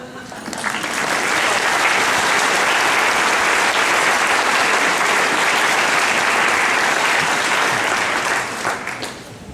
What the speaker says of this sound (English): we owe a big thank you and a round of applause